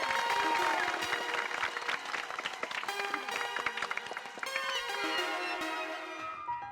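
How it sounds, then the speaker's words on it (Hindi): Applause for journalist Popatlal in a TV sitcom scene from Taarak Mehta Ka Ooltah Chashmah: a rattle of clapping from a small group, moderately loud and uneven, mixed with a bright musical sting. "एक बार हमारे माननीय पत्रकार पोपटलाल जी के लिए जोरदार तालियां हो जाए"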